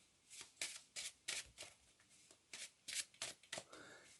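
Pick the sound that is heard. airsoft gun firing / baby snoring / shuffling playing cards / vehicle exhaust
shuffling playing cards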